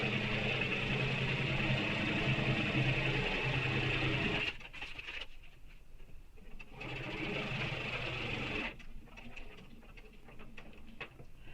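A sewing machine stitches a backpack seam in a fast steady run for about four seconds, stops briefly amid small handling noises, then runs again more lightly before falling quiet to rustling.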